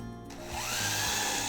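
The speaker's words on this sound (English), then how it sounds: "I'm going to go ahead and drill where it's likely to split, which is on these very thin edges." Craftsman V20 impact driver boring into thin wooden edges, a steady loud whirring drive sound that starts after a quiet moment and runs continuously to the end, close up.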